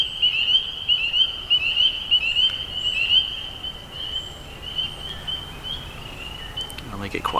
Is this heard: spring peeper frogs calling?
yes